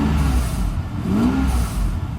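Mercedes 600SL V12 engine revving briefly from a light throttle press, a steady mid-low rumble rising into a short swell, up close with no talk.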